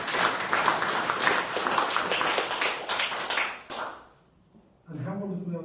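A hall audience at a disability rights annual general meeting gives a round of applause for Sophie, with steady, dense clapping that dies away before a voice resumes speaking.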